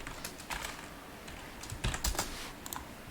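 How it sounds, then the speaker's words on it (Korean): Keystrokes on a computer keyboard, including a Ctrl+D shortcut, while working in a game editor: a short run of light, close clicks, with a denser cluster of taps in the middle and no talk. "하나 더 컨트롤 D 눌러서 건이라고 써주세요"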